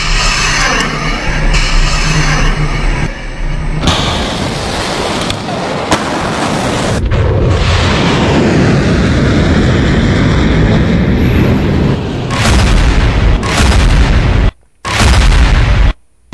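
Coast-to-sea ballistic missile launches during a large military exercise, heard as a loud, sustained roaring rush of rocket exhaust with heavy broadband noise, rumbling and shifting over many seconds and cutting out abruptly near the end.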